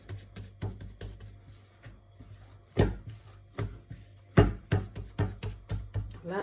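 A knife chops risen homemade bread dough, made without eggs, butter or milk, into eight pieces, giving a series of distinct close thuds against the board at an uneven pace, with quiet gaps between cuts and no talking.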